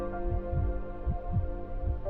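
A heartbeat sound effect from the video game Snowbreak thumps in low, regular double beats, repeating steadily over a sustained droning hum.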